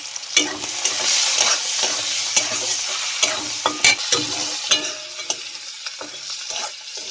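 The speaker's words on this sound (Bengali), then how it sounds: "নুন দিয়ে চিংড়িটা ভেজে নেব।" Salted shrimp frying in oil in a kadai, loud continuous sizzle broken by frequent sharp spatula scrapes and taps against the pan, close up with no talking.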